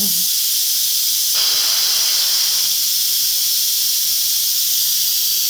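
Steady, loud hiss of steam escaping from an Instant Pot pressure cooker fills the whole clip, with a brief surge in the middle before settling back to a constant rush.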